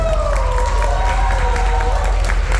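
A convention panel audience at Texas Furry Siesta 2024 claps and cheers for a high-speed model, a loud, dense wash of applause and crowd noise with a thin whistling tone running through it.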